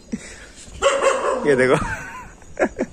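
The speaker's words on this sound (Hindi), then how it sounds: "कुत्ते ऊपर से भौंक रहे।" Street dogs bark from above in the morning as travellers set off, giving a loud, drawn-out, howling bark in the middle and a few short yaps near the end, mixed with people talking.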